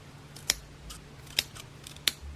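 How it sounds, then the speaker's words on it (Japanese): Scissors cut along marked lines in paper for marigold paper flowers, giving three sharp, close snips about a second apart, with fainter rustling of the paper between them. "印をつけた部分をハサミで切りました。"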